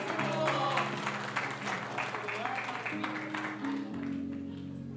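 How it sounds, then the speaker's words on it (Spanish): Church congregation applauding during a sermon, a steady wash of clapping mixed with sustained background music tones, fairly loud and continuous for several seconds. "Un aplauso para la gente."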